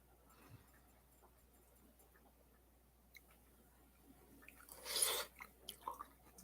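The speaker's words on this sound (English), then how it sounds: "we could all dip our spoon in and have a bite" A bite of carrot mushroom red lentil soup with kale is chewed close to the microphone, soft faint mouth sounds followed by a brief louder burst and a few wet smacks near the end, with no talking.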